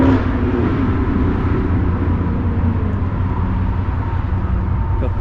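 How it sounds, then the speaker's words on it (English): A couple of trucks accelerate hard at a car meet, a continuous deep engine roar and rumble holding steady throughout at fairly close range. "Couple trucks on the gas."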